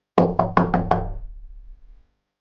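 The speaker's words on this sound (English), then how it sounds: "She knocked." Five sharp knocks on a door in quick succession, close and loud, followed by a brief fading resonance and then silence.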